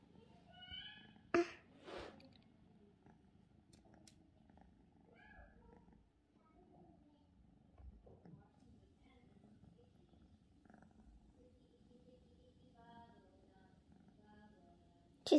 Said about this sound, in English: She's still purring.